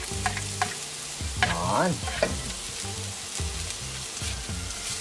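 Red onion and minced ginger sautéing in a pan for tokwa't baboy, a steady close sizzle with utensil scrapes and stirring clatter, while a person speaks briefly over the cooking.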